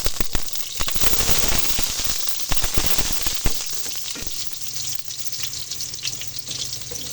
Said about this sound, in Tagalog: Ngayon naman magsasangag ako